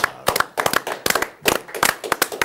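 Small audience claps in tribute to an Argentine filmmaker and singer at an Argentine café gathering, a few hands striking in uneven, sharp bursts that rise and fall over a couple of seconds, fairly close and with no voices.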